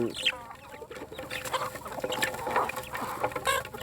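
Several chickens cluck and chatter continuously at close range, overlapping calls forming a busy farmyard din.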